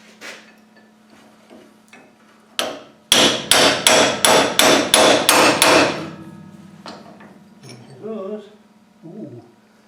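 Hammer blows drive a chisel to wedge off a snapped bolt on a flange: about nine sharp, ringing metal strikes in a quick steady rhythm, close and loud, with quieter clinks and tool handling before and after.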